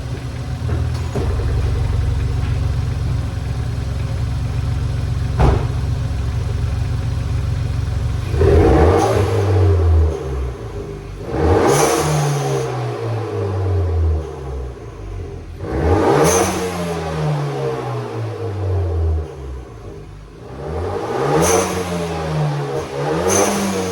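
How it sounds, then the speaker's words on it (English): Car engine fitted with a new sequential blow-off valve, revved several times in close succession, each rise in pitch ending in a sharp release burst before it drops back toward idle, loud and near with no voices. "this is new sequential blow-off valve"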